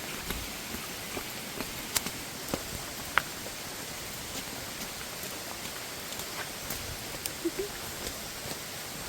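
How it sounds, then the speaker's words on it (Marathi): Heavy rain falls in the Matheran jungle as a soft, even hiss, with scattered drops ticking nearby throughout. "पाऊसच पाऊस."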